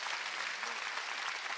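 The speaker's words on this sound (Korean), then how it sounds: "깨달은 사람만 박수치라고." A church congregation applauds during a Korean sermon, dense steady clapping from many hands that fills the short moment evenly.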